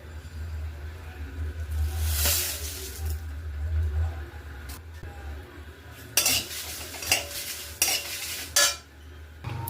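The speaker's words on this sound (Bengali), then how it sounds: "শুকনো লঙ্কা, গোটা জিরে, তেজপাতা, মৌরি, এগুলো আমি কড়ার মধ্যে ভেজে নেব।" Dried red chillies, whole cumin, bay leaf and fennel frying in a wok give a soft sizzle under repeated metal spoon scrapes and clinks against the pan, with a low steady hum in the background.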